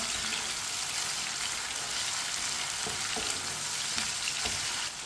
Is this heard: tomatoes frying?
yes